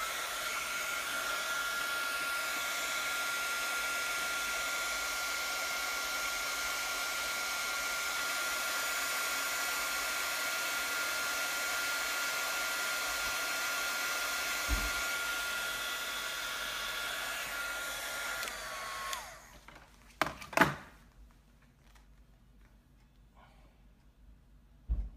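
Heat gun blowing steadily on a bullet connector attached to a motor wire, a constant close airy roar for about twenty seconds before it cuts off, followed by a few clicks and handling noises.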